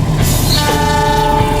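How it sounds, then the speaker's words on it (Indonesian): A passenger train crosses the long Cikubang railway bridge in Indonesia, coming from the Jakarta direction, its loud horn sounding sustained tones over the rumbling roar of the cars, close and alone without talk. "Ada kereta tuh kan, ada kereta dia. Kereta dari arah Jakarta ini ya."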